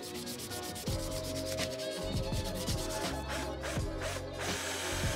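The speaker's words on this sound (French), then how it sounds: "puis ponce les lettres au grain 500." Wooden clock letters being rubbed with 500 grit sandpaper, a steady close scratchy sanding with repeated back-and-forth strokes, loud and alone without speech.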